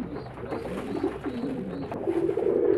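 Domestic pigeons coo softly nearby in a loose rhythm of low, rolling calls, with a few overlapping voices and light background noise.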